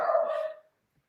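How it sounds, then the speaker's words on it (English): A single dog gives a short burst of barking, close and fairly loud, with the sound fading out after about half a second into quiet. "My dog's barking"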